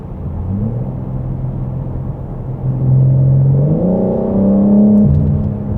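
A 2022 BMW M4 Competition revving, its engine note rising and swelling in a steady drone with active-sound burbles layered over it, close and fairly loud, with no talking.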